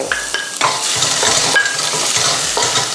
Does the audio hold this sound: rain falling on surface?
no